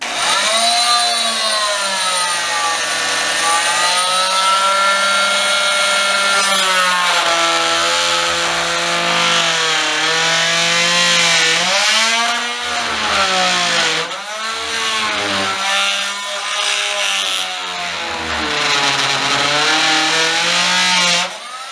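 A power saw cutting through old painted quarter round trim during a bathroom sink and base installation, a loud whining buzz that rises and falls in pitch as the blade bogs and recovers over about twenty seconds.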